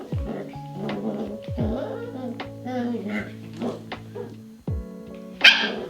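A puppy named Bailey yips and barks in short bursts, close and fairly loud, mixed with a person talking over it indoors.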